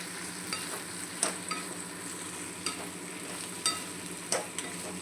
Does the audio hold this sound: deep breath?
no